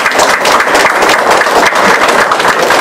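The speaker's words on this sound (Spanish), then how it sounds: "Fuertes y aplausos," An audience claps loudly at a ministry event, with dense, continuous applause close and strong throughout, no voices standing out.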